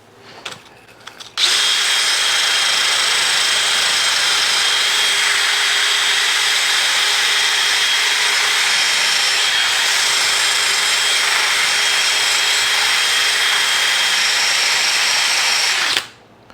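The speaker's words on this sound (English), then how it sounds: "let's start with a wire brush" A power tool spins up and grinds a wire brush against a Honda CX500 engine in one long, loud, steady whirring rasp, then winds down and stops.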